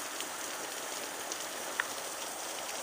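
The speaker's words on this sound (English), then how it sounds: "it is pouring cats and dogs" Heavy rain pours steadily in a garden where green tomatoes are being gathered, a dense, even hiss with a few sharper drips standing out, and no voices.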